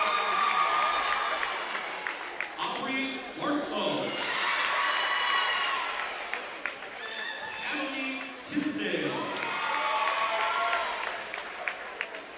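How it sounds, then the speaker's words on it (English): Crowd applause at a high school basketball game for club members, sustained clapping with cheers swelling and easing over about twelve seconds, filling a gym with a mix of near and distant hands. "Let's give them all one big round of applause."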